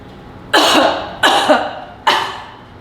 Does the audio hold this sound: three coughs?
yes